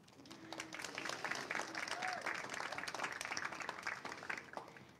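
An elementary school crowd at a ribbon cutting gives a short burst of moderately distant clapping, with scattered voices and chatter underneath.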